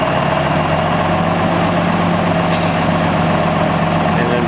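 A tractor engine idles with a steady, loud diesel rumble while backing under a low boy trailer at the Red Power Round Up 2016, with a brief hiss partway through and someone talking over it.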